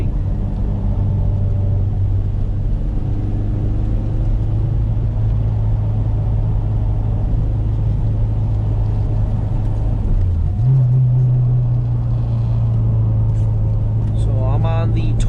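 Steady loud road rumble and engine drone inside a lowered Acura RSX on Toyo TR1 tires while cruising, with a brief shift in engine pitch partway through and no talking.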